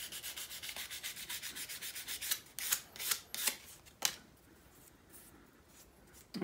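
Sandpaper rubbed by hand on a guitar nut (the small string slot piece), a steady rhythmic series of close scratchy strokes, then a few louder separate swipes before it trails off.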